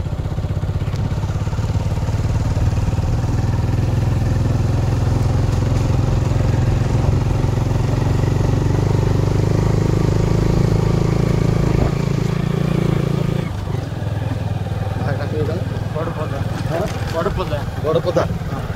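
A motorbike ride to a village carries a steady, close engine drone with road and wind rumble under continuous talking; the engine note drops away sharply near the end.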